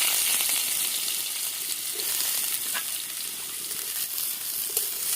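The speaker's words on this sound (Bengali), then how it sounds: "কেটে রাখা কচু দিয়ে দেব।" Cut taro frying in hot mustard oil, a steady bright sizzle and crackle throughout with a few soft pops, close and even in level, with no voices.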